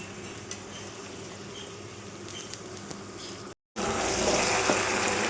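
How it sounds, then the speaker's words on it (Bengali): Mutton being sautéed and stirred in a pan for kosha, a steady close sizzle that briefly cuts out and then returns louder. "আর একটু কষাবো, একটু সময় নিয়ে কষালে বন্ধুরা"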